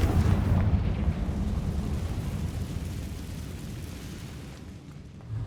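A Confringo fire spell blast in Hogwarts Legacy, a sustained roaring, rumbling explosion with heavy low-end boom that tails off over several seconds, loud and close with no talking.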